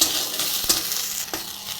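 Bhetkul leaves fry in a pan, giving a close, bright sizzle that rises and falls, broken by a couple of sharp stirring scrapes.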